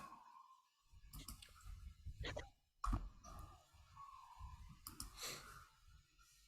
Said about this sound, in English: Maybe you can hear Jory clicking as she's making the groups